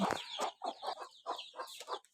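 Chickens on a poultry farm cluck in a rapid run of short, close calls, each burst clear and fairly loud, with no one talking.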